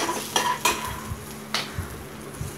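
A spoon stirs turmeric and asafoetida in hot oil in a pan while cooking South Indian curry, with a steady close sizzle under several light metal scrapes and clinks of the utensil.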